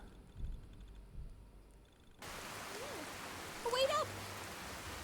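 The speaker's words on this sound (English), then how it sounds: "And now it's raining." Rain falls in the video game Fallout 4, a steady soft hiss of rainfall that begins suddenly partway through, with brief game sounds and a voice over it.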